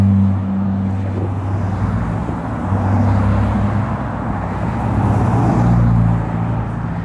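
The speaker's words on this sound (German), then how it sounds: "Es fährt hier ab und zu immer noch mal ein geiles Auto vorbei." A sports car drives past at the Tatsumi No. 1 parking area in Tokyo, its engine rumbling steadily and swelling gradually as it nears, loud and close, with no voices.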